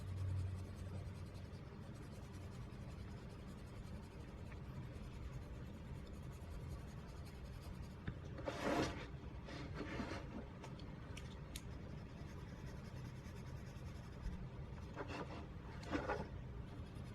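Prismacolor colored pencil blends over paper in soft, faint scratchy strokes, with short bursts of rubbing at a few moments against a quiet background.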